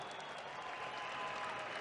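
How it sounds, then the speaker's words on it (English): An audience at a professional MMA event applauds the winning fighter, a dense, steady wash of clapping heard from some distance and fairly faint, with no break over its short span. "A well-deserved round of applause for Arman Ashimov from Kazakhstan."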